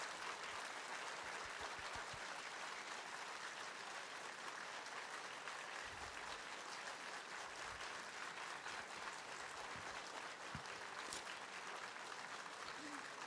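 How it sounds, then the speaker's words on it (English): Warm applause from an audience at a distinguished lecture in Taipei, a dense, steady wash of many hands clapping throughout, moderately distant and even in loudness. "Thank you all for the warm applause."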